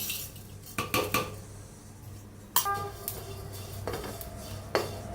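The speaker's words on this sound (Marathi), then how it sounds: "खोबरं तीळ आहे ते दोन्ही संगच भाजून घेते" Grated coconut and sesame seeds dry-roasting in a pan, marked by clinks and scrapes of a metal spoon on the vessel and a brief louder clatter midway, close by and without speech.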